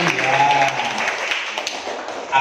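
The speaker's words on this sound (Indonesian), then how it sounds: "tepuk tangan dong" A classroom group claps, with brief scattered hand claps and taps over a short stretch, while a voice is heard faintly at the start.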